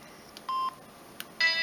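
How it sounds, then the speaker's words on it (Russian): Keypad tones from a Samsung C200 mobile phone set to tone dialing: a few short, steady electronic beeps, one brief and others lasting a fraction of a second, quiet and close with no talking. "громкость, звук клавиатуры. У меня тоновый набор стоит."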